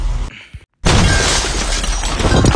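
Window glass shatters loudly in the video game Ice Scream 1 after a brief pause, a sudden bright crash that keeps ringing with dense debris and rumble to the end.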